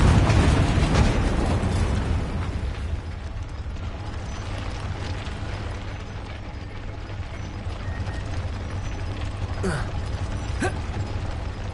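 Confringo blasting spell explosion in a Hogwarts wizarding video game, a loud booming blast at the start that decays into a long rumbling, crackling tail.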